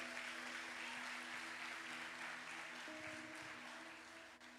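Church congregation applauding during an evening service, a steady broadband patter of many hands sustained throughout, moderately loud and even, fading slightly at the end with a faint tonal hum beneath.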